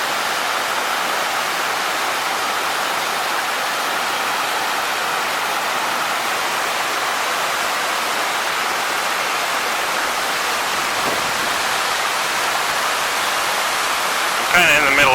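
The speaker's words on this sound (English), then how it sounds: "I'm kind of in the middle of the creek here." Rushing creek water on the Siouxon Creek trail, heard from a rock in the middle of the stream: a loud, steady broadband roar that holds unbroken throughout, with a brief extra splash or knock near the end.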